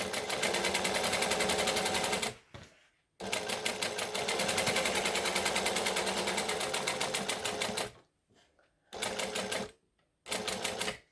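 A sewing machine stitching a vinyl handbag, rapid clattering needle bursts in several runs of a few seconds each, separated by short pauses for backstitching, close and loud.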